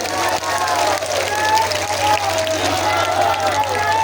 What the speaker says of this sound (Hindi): जरा ताली भी बजाइए सबसे